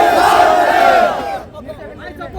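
A large crowd shouting in unison at a torch march protest in Sikar over the NEET paper leak, a loud massed roar that fades after about a second and a half.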